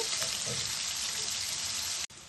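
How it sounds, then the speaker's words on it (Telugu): Fish fries in a little oil over a low flame with a constant, bright close-up sizzle that runs steadily before cutting off abruptly near the end. "స్టవ్ సిమ్లో పెట్టుకుని వేపుకుంటే చక్కగా వేగుతాయి"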